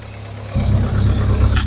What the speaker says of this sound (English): It's just a lovely 4-cylinder burbly sound